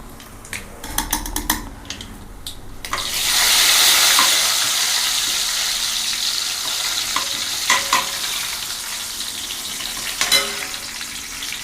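Fenugreek seeds are dropped into hot oil for a Sankara fish curry and burst into a loud, bright sizzle that rises and holds, with a few utensil clinks before and after. No voices are heard.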